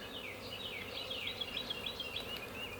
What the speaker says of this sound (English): We just got bees all over the place.